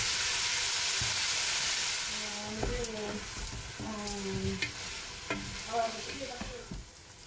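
A single red chili is stirred and fried in a pan with onions for mutton dalcha, giving a loud sizzle that eases off under scraping, clattering stirring strokes and brief squeaky tones.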